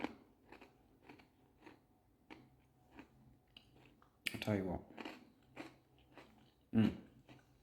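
Loud crunchy chewing bursts from eating a gingerbread cookie break through between short spoken phrases, with two especially sharp crunches near the end.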